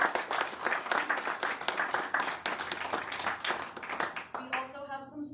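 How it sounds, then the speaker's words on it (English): A round of applause at a county commissioners meeting: a sustained patter of many hands clapping in a room, fading out near the end as a voice begins speaking. "So let's give them all a round of applause."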